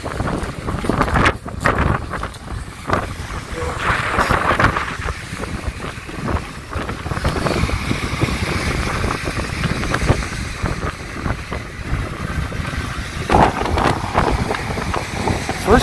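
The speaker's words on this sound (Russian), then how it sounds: "Слышите, какой ветер?" Strong gusts of wind on a Black Sea beach at Lazarevskoye, Sochi, buffet the microphone, roaring unevenly and drowning out distant background noise.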